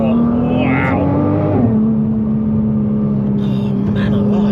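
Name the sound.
Nissan GT-R NISMO driven hard on road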